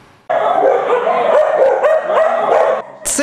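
Dogs bark and yip continuously at an animal shelter where stray dogs are brought for sterilization, a loud overlapping chorus with whimpers mixed in and a sharp yelp at the end.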